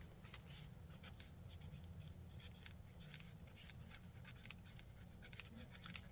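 Pen or marker writing on paper during an art lesson on value contrast, a steady close scratching with repeated short strokes over a low background hum, no talking.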